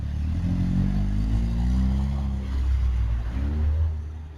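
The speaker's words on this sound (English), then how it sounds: "He gets back inside and the red car pulls off." A red car pulls away, its engine a steady low rumble that swells and holds for several seconds before easing off, captured from a fixed camera at a roadside robbery scene.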